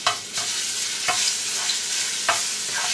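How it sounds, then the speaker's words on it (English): Garlic browning in a quarter cup of hot oil over a medium-low flame: a dense, steady sizzle with a few soft stirring scrapes, close up and without voices. "1/4 cup of oil. Brown the garlic."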